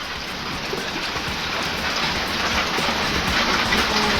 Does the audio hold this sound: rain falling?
yes